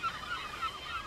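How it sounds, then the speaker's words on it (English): Seabirds and gulls call near the ramp of an aircraft carrier at sea, a quick run of faint, nasal honking cries over steady wind and ship noise. "there are quite a few seabirds and gulls just off the ramp"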